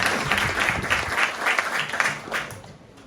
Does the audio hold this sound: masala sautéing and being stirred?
no